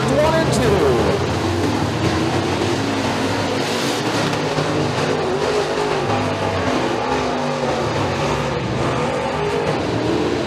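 Dirt-track race cars at Bradford Speedway during a heat race, engines roaring continuously as the pack runs laps, a loud dense rumble under steady excited commentary.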